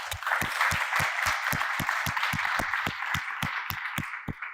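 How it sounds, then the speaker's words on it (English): Audience applause at the close of a talk at a federated learning summit: steady, evenly spaced claps from a modest crowd, fairly close and continuous for several seconds with no speech over it. "Let's give you a round of applause one more time."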